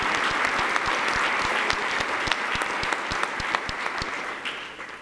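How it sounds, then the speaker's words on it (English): A crowd at a Newark fire recruit class graduation ceremony gives a sustained round of applause, dense clapping close and steady for several seconds, fading slightly at the end. "Let's give them a round of applause and show them the love they deserve."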